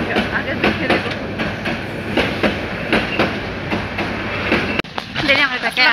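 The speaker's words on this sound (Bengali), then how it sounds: "ট্রেন যাচ্ছে" A train rolls past close by, its wheels beating a steady clickety-clack rhythm for several seconds with a sharp knock near the end, while voices murmur faintly underneath.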